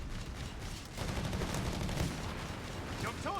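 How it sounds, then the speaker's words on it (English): A land mine detonates in Company of Heroes 3, a dense burst of explosive noise within ongoing battlefield din, loud and sustained over a few seconds. "Mine detonates there."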